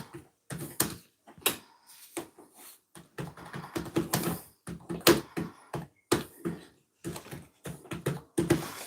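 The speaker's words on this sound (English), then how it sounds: "Let me just type this in." Keys clack on a computer keyboard as a chat message is typed, with close irregular bursts of taps separated by brief pauses and no talking.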